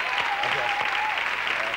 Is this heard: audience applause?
yes